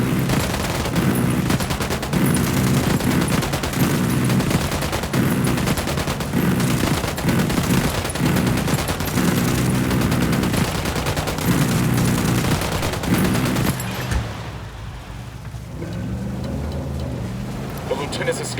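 Automatic gunfire in the shooter game Ghost Recon Wildlands, dense rapid bursts repeating for over ten seconds, loud and close, then dropping to a quieter ambient tail with engine-like rumble.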